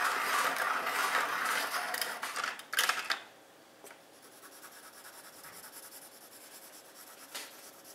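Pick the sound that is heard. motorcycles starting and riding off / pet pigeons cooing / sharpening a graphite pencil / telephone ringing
sharpening a graphite pencil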